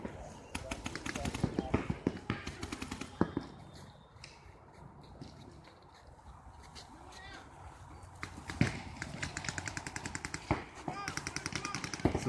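Video game gunfire, rapid volleys of sharp shots, moderately loud, crackling in bursts at the start and end with a quieter stretch in the middle.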